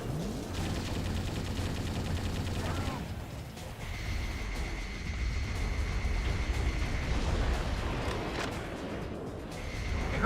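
Heavy gunfire in the video game Metal Wolf Chaos XD as an Apache helicopter is shot down, dense bursts and crashing blasts filling the whole stretch at close, loud level with a brief lull partway through.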